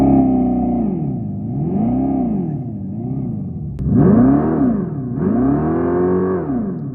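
A Dodge car produces an odd, synthetic-sounding engine note that rises and falls in repeated swells like simulated gear shifts, growing louder and brighter after a short click partway through, with no talk over it.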